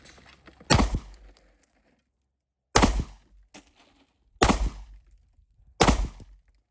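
Four sharp handgun shots from a Pakistani-made CZ 75 or Beretta 92 at an outdoor range, aimed at a red bottle. Each is a loud, close crack with a short decay, spaced irregularly a second or two apart.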